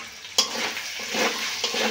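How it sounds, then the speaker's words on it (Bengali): Potatoes and chana dal are stirred in a sizzling pan, with a spatula scraping sharply a few times over a steady crackle of frying, close by and with no talking. "দিয়ে আবার একটু এই নেড়ে চেড়ে নেবো এইভাবে।"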